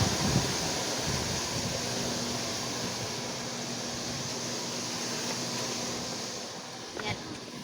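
Water gushes out of a pool filter during backwash, a broad, steady rush like surf, loud and continuous, with a faint low hum beneath it.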